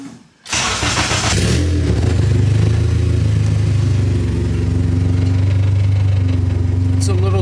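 A K-series engine in a Honda Civic starts and settles into a steady low, rumbling idle, loud and close, holding evenly for several seconds with no talking.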